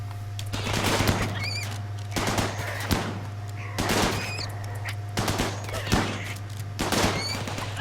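Colonists in RimWorld shoot at a swarm of bunnies. Rapid bursts of gunfire come in clusters several times, with short pauses between volleys. They are loud and close over a steady low hum, with faint whistling tones between shots.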